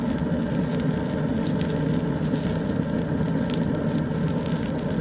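Green onions frying on a Traeger Ranger flattop griddle, a steady, dense sizzle with crackle running continuously at even loudness and no talking.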